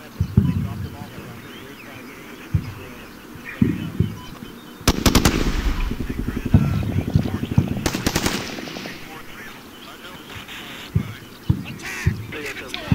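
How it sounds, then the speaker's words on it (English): Gunfire in the combat game Combat Mission: Shock Force during an infantry assault on a marketplace: repeated sharp rifle shots and several loud machine-gun bursts, some near and some distant, ringing out over a steady battlefield background. "And they immediately come under fire."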